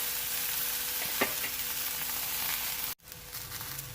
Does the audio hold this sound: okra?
yes